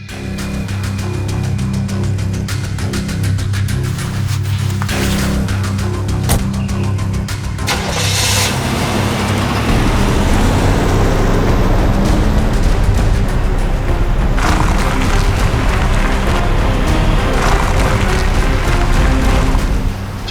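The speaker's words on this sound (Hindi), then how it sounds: "गाड़ी चलाओ।" A car engine runs loud and close throughout, a steady low rumble that swells and grows rougher partway through as the vehicle is driven, with no voices over it.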